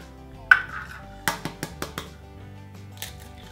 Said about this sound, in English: we're gonna crack our eggs into our bowl